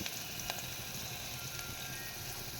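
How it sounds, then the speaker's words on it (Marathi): Crushed garlic sizzling with onion in a hot pan, a steady dense frying hiss with scattered pops and crackles, close and continuous throughout with no talking. "आता ठेचलेला लसूण यात घालून घेतला."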